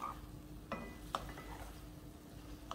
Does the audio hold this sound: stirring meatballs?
yes